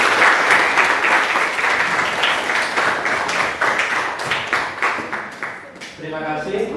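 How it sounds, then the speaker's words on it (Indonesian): A class of tenth-grade students applauding in a classroom, brisk rhythmic clapping that grows less dense over about six seconds before fading and giving way to someone speaking. "Tepuk tangan dulu untuk kelas 10."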